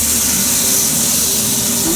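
Steady loud hiss of pork sizzling in about two tablespoons of hot olive oil over high heat, continuous and close with no pauses.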